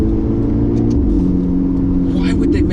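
A Ferrari engine revs in paddle-shift mode, a steady loud mechanical drone with strong low harmonics that swells slightly near the end, heard from inside the car with speech over it.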